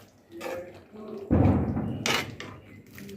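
A spoon stirs food into gravy in a cooking pot, with brief scraping and clattering against the metal close by and a voice speaking alongside.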